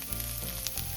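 Pre-cooked ground beef sizzles in a pan with rough-cut onions and shallots, a steady close frying crackle with a few brief sharper spits throughout.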